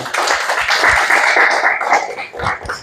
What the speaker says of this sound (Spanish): Un aplauso al pastor William,